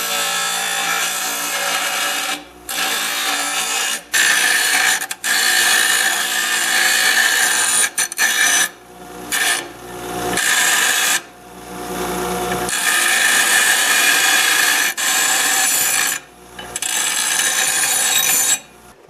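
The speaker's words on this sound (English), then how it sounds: "Now I'm just going to go on my bench grinder and round off the edges over here." A bench grinder rounds off the edges of a metal piece in loud, close grinding passes lasting several seconds each, separated by brief pauses as the piece is lifted away.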